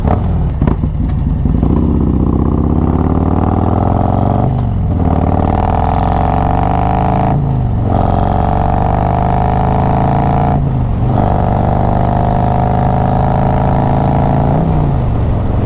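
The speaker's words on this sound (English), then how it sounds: "I'm going to shift a little bit faster than normal just to get the low RPMs" A 2020 Harley-Davidson Road Glide with a Khrome Werks reducer fitted, accelerating hard through several quick low-RPM gear shifts, each rising engine roar broken by a short dip at the shift, loud and close.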